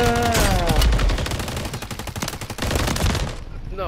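Rapid automatic gunfire from a Call of Duty match, a loud, dense burst of repeated shots that runs nearly continuously for about three and a half seconds before cutting off, with a brief voice at the end.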